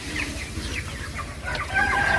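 Broiler chickens on a village poultry farm in Talangjering cluck and squawk in a close, busy flock, overlapping calls rising and falling over a steady background murmur.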